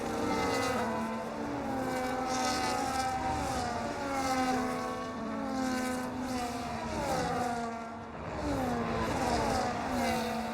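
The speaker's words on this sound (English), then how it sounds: "Down the inside, William goes on the McLaren of RP" Formula 1 cars racing in the F1 25 video game, including a McLaren, with steady high-pitched engine whine that rises and falls through gear changes as cars run close together, continuous and loud with no talk.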